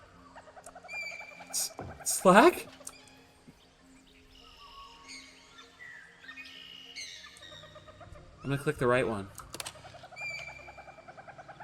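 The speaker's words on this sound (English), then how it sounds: "Stanley flipped through one video of silly birds after another" Playful chirps, squeaks and warbling bird calls from short bird videos in The Stanley Parable 2, in scattered bursts with louder squawks, while a person speaks briefly.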